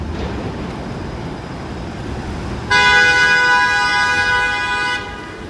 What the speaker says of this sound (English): Whatever happened to like the friendly honk?